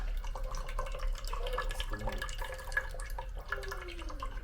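Liquid drips and trickles through a sieve in a kitchen, a faint run of small wet splashes and patters over a low background hum.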